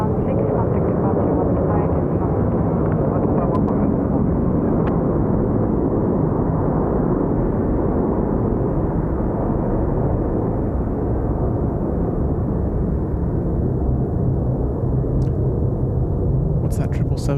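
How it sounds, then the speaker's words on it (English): A Boeing 777 jet taxiing at Incheon airport, a loud continuous low rumbling roar that holds steady throughout, with a few faint clicks near the end and no voices. "What's that 777 I can hear?"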